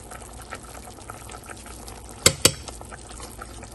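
Egg koftas simmer in a pot of curry with fresh coriander, giving a soft, low bubbling. Two sharp clicks cut through it near the middle.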